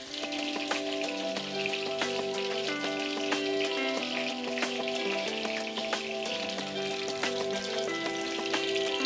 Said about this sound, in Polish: Już tutaj skwierczy pięknie, wszystko elegancko.